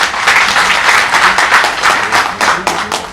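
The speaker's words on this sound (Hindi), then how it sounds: "एक बार डॉक्टर अंबेडकर के लिए ताली।" An audience at a lecture on Ambedkar claps loudly in honour of Dr. Ambedkar, with dense, rhythmic applause that swells in waves and includes a few sharp individual claps near the end.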